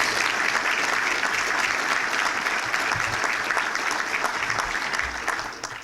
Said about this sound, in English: So let's have a round of applause for those employees.